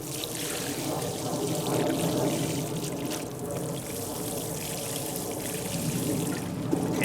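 Water poured steadily onto soil around peas growing in a container, a continuous close splashing trickle lasting several seconds without a break.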